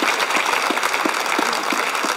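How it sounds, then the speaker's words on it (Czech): An audience claps at the OSA annual music awards ceremony in the Czech Republic, a dense, loud, continuous patter of applause from a hall with no voices. "Vítáme ho potleskem."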